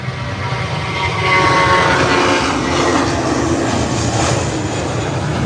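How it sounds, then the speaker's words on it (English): An American Airlines airplane accelerates down the runway on takeoff, its engines a loud, steady roar with broad rushing noise that holds strong and close throughout. "And the nose wheel is up. And it's away. Beautiful takeoff."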